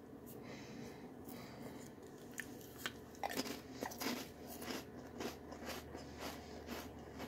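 Close biting and crunching on a cracker loaded with dip, several crisp bites followed by steady chewing, with no talk.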